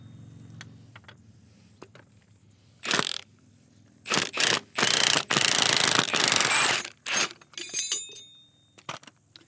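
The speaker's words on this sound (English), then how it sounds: "So now that that's set, we can go ahead and remove our spring compressor." Spring compressor being removed from a rear strut of a 2014 Subaru Forester, heard as bursts of loud ratcheting and metallic clatter near the mic, with sharp clanks and rattles between quieter pauses.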